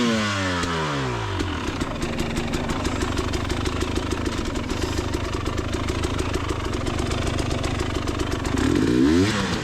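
A motorcycle picks its way over rocks on wet, slippery lanes. The close engine putters steadily with a rapid, even pulse and swells slightly near the end, with no voices.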